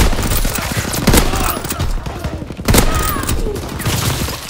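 Rapid gunfire in a Call of Duty WW2 match, with a lever action sniper rifle among several loud shots and bursts cracking out over a busy game soundscape.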